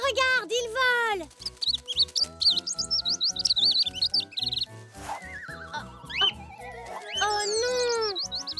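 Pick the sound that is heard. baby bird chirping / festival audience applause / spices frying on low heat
baby bird chirping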